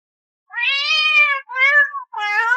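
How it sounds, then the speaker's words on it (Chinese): A cat meows three times in close succession, loud and near, each cry a clear tonal wail with brief pauses between them. "怎么，你这猫是饿得来青云宗找吃的了？"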